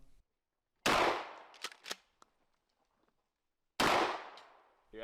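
Two loud, sharp gunshots boom with a gap between them, the first followed by quick metallic pings and rattles of shrapnel striking close steel targets before fading to quiet.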